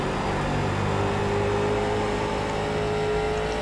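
A late model race car engine in iRacing holds a steady, loud drone under throttle with a faint whine layered on top, continuous and alone throughout.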